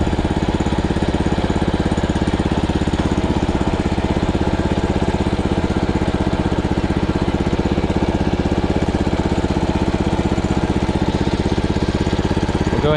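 An old Gravely walk-behind mower's engine runs steadily up close, a loud, even mechanical drone with a fast rhythmic pulse that holds unchanged throughout, with no voices.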